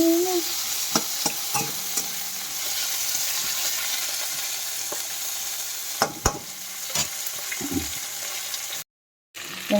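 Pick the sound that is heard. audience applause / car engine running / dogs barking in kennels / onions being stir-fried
onions being stir-fried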